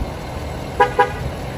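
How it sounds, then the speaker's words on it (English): The horn of a 2017 Ford F450 King Ranch pickup truck sounds two short, loud honks in quick succession as the door is closed, over a low steady background hum. "it's going to honk at you twice like that every time you close the door"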